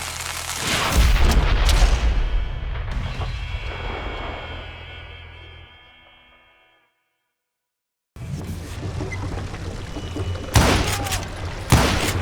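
Gunshots in a Call of Juarez Gunslinger video game duel: a loud opening shot rings out and decays into a long fade and a brief silence. A few more sharp, separate shots follow near the end.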